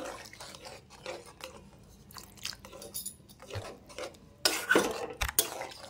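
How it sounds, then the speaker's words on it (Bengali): Soybean and potato curry being stirred in a pan after cold water is added, with soft scraping and sloshing strokes, then a louder burst of rasping spoon-against-pan scrapes near the end. "একটু মিশিয়ে নিই"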